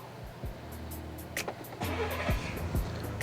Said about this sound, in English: the remote start will engage and then start the vehicle